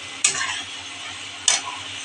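A masala spice paste for prawn curry is stir-fried in oil, with two sharp scraping stirs against a faint, steady sizzle close by.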